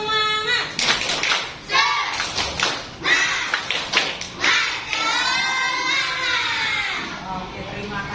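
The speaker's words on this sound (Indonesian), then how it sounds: "Coba kita tepuk semangat dulu." A classroom group performs a rhythmic spirit clap in short bursts of patterned clapping, with children's voices and shouts mixed among the claps.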